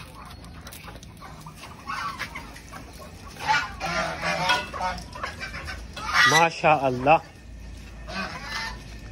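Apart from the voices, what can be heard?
ducks and turkeys calling while being fed millet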